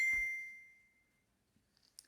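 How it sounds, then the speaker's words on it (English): A phone gives a single clear ding for an incoming message, ringing out and fading slowly, followed by faint small clicks and no speech. "Sorry if you can hear those bing, bing, bing because someone messaged me"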